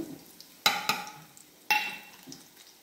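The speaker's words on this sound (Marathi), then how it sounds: "असं कालवायचं सगळीकडे, खालनं वरनं घ्यायचं।" Spoon stirring tilkut, a sesame powder mix, through food in a pan, with two sharp scraping strokes standing out over a soft, quiet sizzle and no voices.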